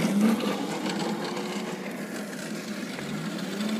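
Steady buzzing whine of a small motor scooter engine running continuously at close range, with a slight rise and fall in pitch.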